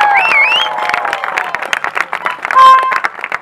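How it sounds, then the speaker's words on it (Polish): Applause and cheering from a game-show audience mix with whistle-like tones and a brief sustained beep, lively and loud with crowd noise throughout. "Jeszcze raz wielkie brawa dla Was!"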